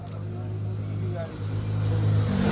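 A car engine rumbles steadily at close range with a revving rise near the end, as someone talks over it.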